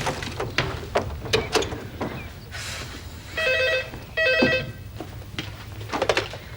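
A telephone rings in a home with two bursts of electronic trilling, loud and near, preceded by clicks and knocking handling noises.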